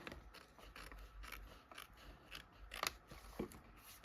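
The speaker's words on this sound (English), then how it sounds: "Oh, wait. I gotta trim that." Scissors trimming paper while working in a junk journal, a few close, quiet snips and clicks of the blades with faint handling rustle between the cuts.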